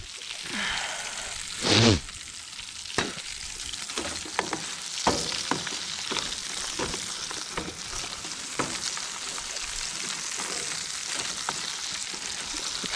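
Thick pieces of deer heart fry in a hot pan with a steady, close sizzle, dotted with sharp crackles and pops throughout; no one speaks.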